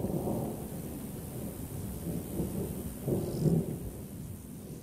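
A distant thunderstorm used as a sound effect for a story reading rumbles low and continuously, with a faint steady hiss like rain beneath it and a slight swell in the rumble near the end.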